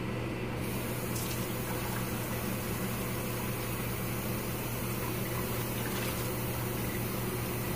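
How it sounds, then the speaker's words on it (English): Water runs and pours steadily into a pot of pork soup for several seconds, a continuous close-up splashing rush with no talking. "I'm going to add another cup of water."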